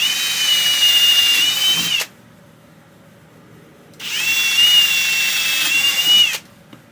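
A power drill whines at high speed for about two seconds, pauses, then drills again for a longer stretch, loud and close.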